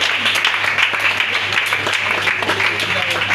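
Applause and cheering from a crowd at a church children's celebration, giving praise to the Lord, with steady dense clapping through the whole stretch and a low constant hum underneath.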